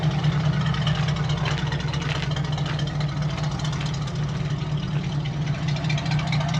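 The Ford 302 V8 in a 1966 F100 runs with an odd noise that is not a bearing: a steady, loud, close rumble with a faint rhythmic ticking throughout.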